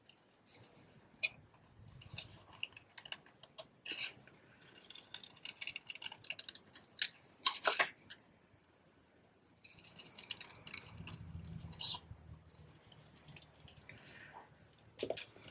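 Scissors snip through a paper card-making design in short, quiet bursts of crisp cuts, separated by brief pauses, close up and otherwise hushed.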